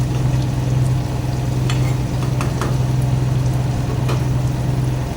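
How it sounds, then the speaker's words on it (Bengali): Chicken curry masala sizzles and fries in a pan, a steady close crackle with a low hum beneath and a few light scraping stirs against the metal. "দেখো, ভালো করে কষিয়ে নিচ্ছি"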